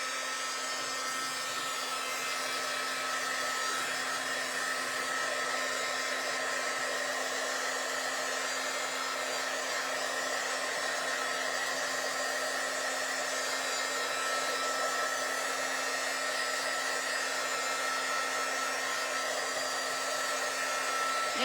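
A hair dryer blows continuously on painted craft lids, a loud, steady, unbroken whir with a constant tone running the whole time, close to the listener and alone without any speech.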